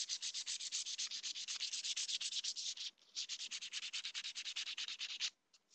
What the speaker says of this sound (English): better if you just go ahead and sand down the entire plate